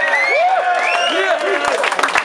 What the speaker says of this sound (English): You make some noise for that battle!